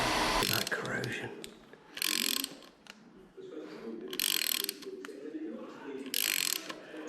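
A wrench ratchets and clicks while working a stubborn, corroded bolt loose during engineering maintenance, coming in several bursts of close metallic clicking and grinding over a low background.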